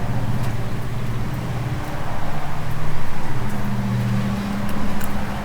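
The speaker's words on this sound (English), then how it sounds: "I like the sounds of cars going by." Low rumbling road noise swells and fades as vehicles pass one after another nearby, with no talking.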